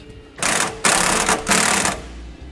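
A 3/4-inch socket and wrench snug up the end link bolts of a Roadmaster rear anti-sway bar on a 2015 Ford E-Series Cutaway. Three loud, close, buzzing bursts of driving come in quick succession, with no speech.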